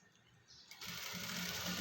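A sewing machine stitches a lined kurti, starting quietly and then running into a steady, close whirring drone for the last second or so, with no talking.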